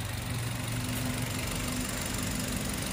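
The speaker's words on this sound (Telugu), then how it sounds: "సింగిల్ సెల్ఫ్లో బండి స్టార్ట్ అవుతుంది." A 2022 Maruti Baleno Zeta car engine idling steadily after starting, a continuous close low hum and rumble with no breaks.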